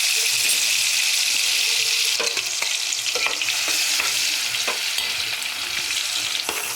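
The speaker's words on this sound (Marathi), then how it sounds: "हे वाटण आता तेलामध्ये चांगलं परतून घ्यायचं आहे" Coarse ginger-garlic-coriander paste fries and sizzles steadily in hot oil while a spoon stirs it, with clicks of scraping against the pan over a constant, close hiss.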